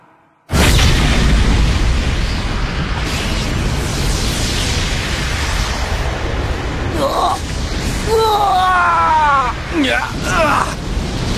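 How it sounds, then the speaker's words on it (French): A massive anime explosion from Uvogin's Big Bang Impact punch in Hunter x Hunter bursts in suddenly and roars on as a loud, sustained blast, with strained shouts and groans rising over the rumble near the end. "3ème position, Uvogin, Big Bang Impact"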